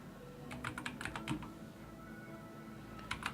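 Fingers type on a computer keyboard in quick bursts of close, crisp key clicks, a flurry of strokes followed by a pause and then a couple more taps, against a quiet room.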